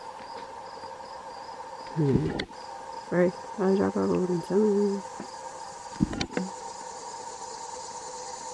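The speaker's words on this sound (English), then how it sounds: "Hear them birds or cicadas or whatever they are?" Insects such as cicadas or crickets trill steadily at dusk along a bike trail between Meyersdale, Pennsylvania and Frostburg, Maryland, a faint continuous high buzz running under nearby speech.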